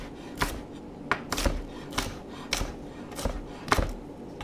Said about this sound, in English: I have a banana pepper that I already took the middle out. Let me chop it.